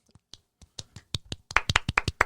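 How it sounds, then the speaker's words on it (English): Real hands clapping, starting with a few sparse claps and building into a quick, loud run of sharp claps by a small group, with no talk. "We'll use our actual claps."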